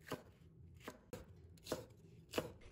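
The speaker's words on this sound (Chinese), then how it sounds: "改刀切成菱形片" A knife slicing king oyster mushroom pieces into diamond-shaped slices on a cutting board, four crisp separate chops spaced across a quiet kitchen, close and clear.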